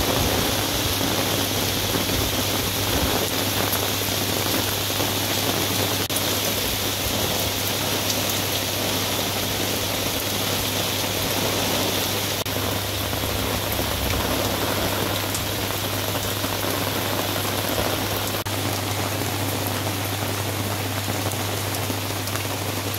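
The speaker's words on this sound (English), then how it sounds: "We're having an incredible amount of rain lately." Heavy rain pouring down steadily on a garden, a dense unbroken hiss of drops on surfaces that stays loud and even throughout, with no voices.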